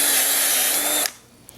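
A power drill with a slightly larger bit widens a bolt hole for a PVC Gaga ball pit, whining loudly and steadily before cutting off abruptly near the end.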